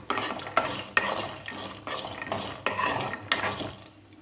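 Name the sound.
frying peanuts in a pan for coconut chutney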